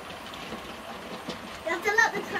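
A Hornby model train runs along layout track, its faint rolling rattle and hiss steady under the room's background and growing a little louder toward the end.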